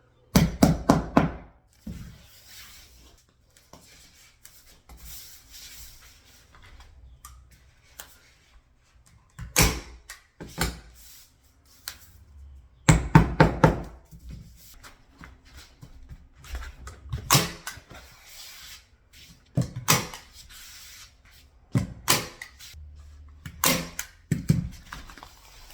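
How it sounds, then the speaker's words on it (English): Staple gun firing staples into floor underlayment, sharp close thunks in small clusters separated by quiet stretches, a handful of shots spread across the half minute with no speech. "So I'm just gonna start stapling this in a few places."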